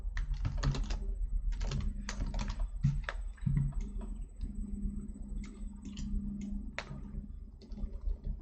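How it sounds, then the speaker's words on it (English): Computer keyboard typing while messaging in the game EverQuest, with bursts of quick, close key clicks separated by brief pauses and a low background hum; no one speaks. "I've got to type to my monk here what he needs to do."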